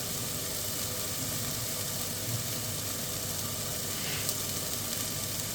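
Onions and celery sizzle steadily in a pan, softened gently rather than browned for a carrot and sweet potato soup; a constant close hiss with no talk.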